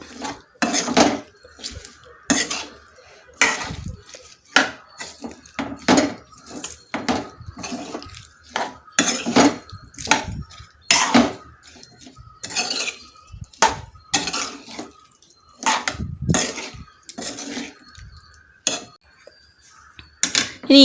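A spoon scrapes and clinks against a pan as mango pieces are stirred into pickle masala, irregular metallic strokes and knocks repeating close up with quiet gaps between them.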